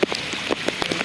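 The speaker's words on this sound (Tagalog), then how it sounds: "Umuulan pa mga kabods." Rain patters steadily on a surface near a riverside fishing spot, with dense close drops and scattered louder individual hits throughout.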